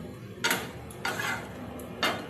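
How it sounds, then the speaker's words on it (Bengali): A spoon scrapes and clinks against a pan three times while a pointed gourd, potato and soybean curry cooks, with a faint sizzle underneath and no voices. "এবার এটা আমি ভালো করে নেড়ে চেড়ে কষিয়ে নেবো অল্প অল্প জল দেবো আর কষিয়ে নেবো"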